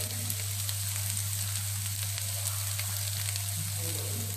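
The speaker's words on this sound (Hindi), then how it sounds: "हम इसे अब पैन में डाल देते हैं और इसे थोड़ा भूनते हैं" Chopped spinach sautéing in a pan gives a steady, even sizzle from start to finish, with no talking and a constant low hum beneath it.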